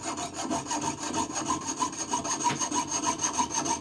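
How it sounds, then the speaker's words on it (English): Steady back-and-forth strokes of a hand saw biting through a metal collet held in a bench vise, a regular rasping rhythm of about three strokes per second, close and clear. "I'm sawing down the angle of the collet."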